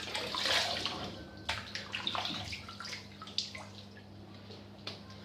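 Water swished and splashed around in a shaving bowl, a soft trickle at close range with a few small drips and splashes, gentle and irregular.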